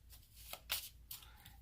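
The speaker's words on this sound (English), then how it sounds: "Once these are removed, you shuffle the deck up of what is left." A deck of Zipang Portable cards riffled and shuffled in three quick bursts of crisp card flutter, close and fairly quiet, with no talking.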